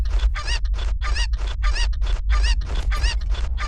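A stream alert plays a cartoonish chicken sound: a rapid, evenly spaced run of about eight loud, nasal squawks, each a short burst close to the listener, with no voices.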